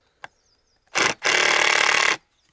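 A power drill bores into a wooden base in two bursts, a short whine followed by a longer steady grinding run about a second long, close and loud with no talk over it.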